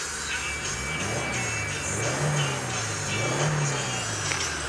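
A 2019 Subaru WRX with the FA 2.0 turbocharged engine revs twice from idle, the engine note rising and falling in two smooth swells over a steady idle rumble, heard nearby.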